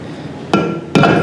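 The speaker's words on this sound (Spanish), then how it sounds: "podemos utilizar por el momento un martillo de goma, simplemente para que pase" Two sharp, loud blows of a rubber mallet on a motorcycle crankcase shaft, driving the secondary shaft into place during crankcase assembly, spaced about half a second apart with brief ringing after each.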